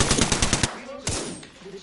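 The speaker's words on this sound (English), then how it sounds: "They're shooting at me." Rapid bursts of automatic gunfire in a first-person shooter game, a fast rattling volley up front followed by a single loud shot, close and sharp with faint game noise behind.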